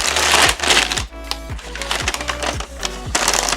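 Paper packaging around a boxed NG Models American Airlines Airbus A321 model airliner crinkles and rustles as it is unwrapped, with close, busy crackling bursts and soft thumps that come and go.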